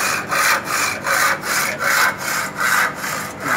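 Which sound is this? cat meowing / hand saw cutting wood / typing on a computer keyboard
hand saw cutting wood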